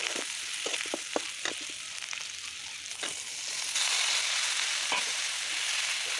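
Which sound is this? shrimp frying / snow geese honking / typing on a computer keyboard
shrimp frying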